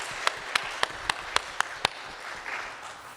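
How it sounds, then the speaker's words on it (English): Applause for honorable mention winners at a university first-year seminar: a modest, fairly quiet room of clapping with several sharper individual claps standing out at regular intervals, tapering off near the end. "Let's give them a round of applause."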